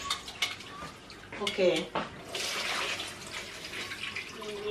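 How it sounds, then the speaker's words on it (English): Rice being washed by hand in a pot of water at home, with sloshing, splashing and scraping of grains against the pot in uneven bursts, close up, while a voice speaks briefly. "Shake out the rice in the pot from your hand. Put it back in the water."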